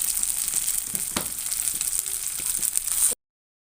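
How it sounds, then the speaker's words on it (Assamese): Spices and tomato paste fry in a pan, a steady bright sizzle with a few soft scraping stirs, continuous and close until it cuts off abruptly. "আৰু এতিয়া সম্পূৰ্ণকৈ গোটেইখিনি মিলাই মই ভাজি ল'ম যাতে মছলাখিনি আৰু বিলাহীখিনি ভালদৰে ভাজ খায়"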